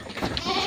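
Goats bleat in a rainy-area farm pen, a short wavering cry rising over a dense, noisy background of other animals close by.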